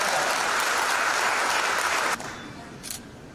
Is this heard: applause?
yes